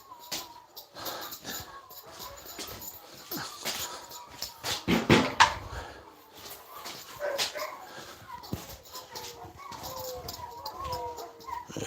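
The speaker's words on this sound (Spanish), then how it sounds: "cómo ladran los perros esos de pe abajo" Several dogs in a rural village bark and yelp on and off, some near and some farther off, in loud bursts over steady background noise.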